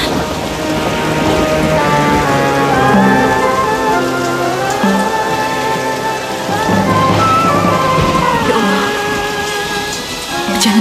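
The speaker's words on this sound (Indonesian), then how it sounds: "Hujan deras sekali." Heavy rain pours steadily and loudly throughout, with a dense hiss of drops on surfaces and low rumbles suggesting thunder, over a music score.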